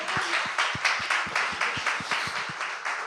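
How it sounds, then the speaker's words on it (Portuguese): A church congregation claps together in a steady, rhythmic beat. Many hands strike at once, about three to four times a second, moderately loud and without voices. "Vamos dar um aplauso ao Senhor Jesus Cristo"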